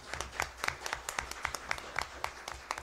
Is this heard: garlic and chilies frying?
no